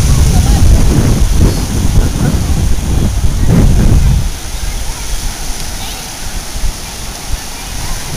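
Surf and wind on a beach at high tide, with a loud, steady wash of waves and wind buffeting the microphone, easing noticeably partway through into a softer, continuous roar.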